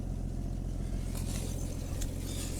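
An old Rambler car engine, run after sitting over 30 years, idles with a steady low rumble and even throb, heard fairly close and alone with no talking.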